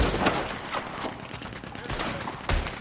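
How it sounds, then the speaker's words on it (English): Rapid gunfire in Red Dead Redemption 2, with a Gatling gun among the weapons, sounding as dense overlapping bursts and sharp shots at steady loudness, with voices shouting over the shooting. "Keep going for the Gatling! Look out for the fire! Hell, that gun can shoot!"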